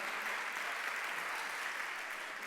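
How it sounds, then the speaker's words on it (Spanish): Audience at a congress on European funding for sport and tourism projects applauding after a presentation, even, continuous clapping from a crowd heard at a moderate distance, with no break. "Un fuerte aplauso, ¿no, Aitor, por esta exposición, para empezar?"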